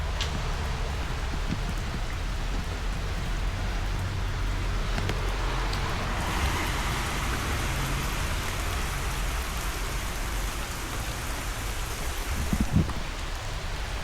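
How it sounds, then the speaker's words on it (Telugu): Heavy, steady rain pours down in a continuous dense hiss, loud and unbroken throughout with no voices. "ఓ బీభత్సంగా వాన పడతాను"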